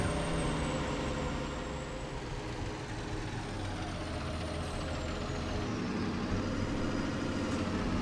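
Truck in Farming Simulator 19 drives with a continuous low engine rumble and a steady drone, faint and even throughout, no voices.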